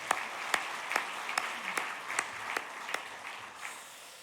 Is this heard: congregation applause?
yes